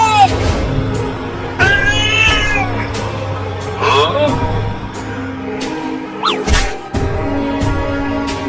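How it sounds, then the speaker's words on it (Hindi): A big cartoon cat gives several loud, drawn-out meows and yowls, some rising and bending in pitch, mixed with voices and thumping sounds. "अरे अब ये इतनी बड़ी बिल्ली कहाँ से आ गई?"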